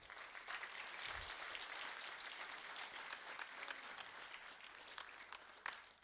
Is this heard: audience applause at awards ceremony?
yes